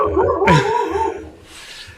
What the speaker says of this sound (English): Will you feed that damn dog?